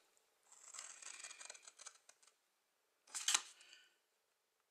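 Scissors cutting paper for a handmade gift tag, a soft crisp snipping and sliding run of cuts, then a short sharper snip after a pause, quiet and close.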